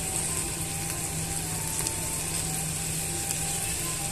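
Chicken fries steadily in a pan with chili powder, giving a constant close, even sizzle with faint scraping and no speech.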